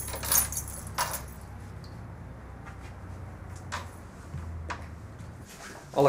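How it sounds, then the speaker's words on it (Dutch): Keys jangle in short metallic bursts as animal-shelter volunteers unlock the building after closing time, a few separate clinks spread over a quiet background. "Gelukkig hebben de vrijwilligers de sleutels en kunnen ze na sluitingstijd ook naar binnen."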